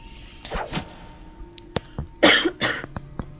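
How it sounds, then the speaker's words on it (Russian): A woman coughing while playing Dishonored, several sharp close coughs and throat-clearing bursts in uneven clusters, with a couple of soft thumps and quiet gaps between them. "я кашлять начала от страха"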